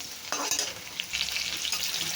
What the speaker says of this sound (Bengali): দিয়ে দিলাম 2 কোয়া রসুন, একটু চিরা চিরা করে কেটে। রসুনটাও বেশ একটু ভেজে নিই।